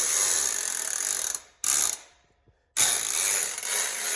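Hand winch on a gantry crane ratcheting as its cable is pulled, rapid dense clicking in two loud bursts separated by a short pause, close and alone.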